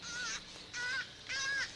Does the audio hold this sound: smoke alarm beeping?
no